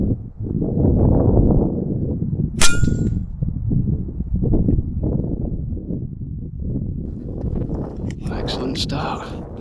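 A single sharp air rifle shot, fired from an Alpex LITE at a rabbit 73 yards away during a hunt, cracks briefly and loudly over heavy wind noise and outdoor rumble.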